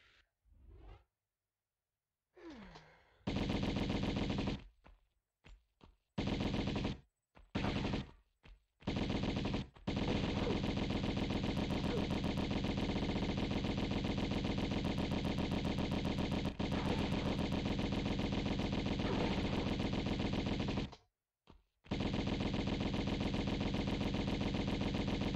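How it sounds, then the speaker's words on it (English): Uzi fire in the Tomb Raider game rattles in long loud sustained bursts, broken by short gaps and a brief pause near the end. "Let's try Uzis for once."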